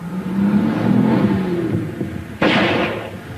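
A car engine revs and the car pulls away, its rising whine under steady rumble, then a sudden loud burst of hiss and clatter near the end.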